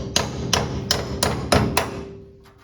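A small sharpened chisel is struck about six times to pry emblems off a 1970 El Camino, giving sharp, evenly spaced metallic taps up close with ringing decay and a faint steady hum underneath.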